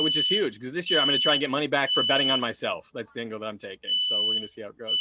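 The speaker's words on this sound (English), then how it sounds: "I think that's my fire alarm going off." A fire alarm sounds at an open mic comedy night as a high, steady electronic tone that keeps returning, clearly heard beneath a comedian's continuous talking.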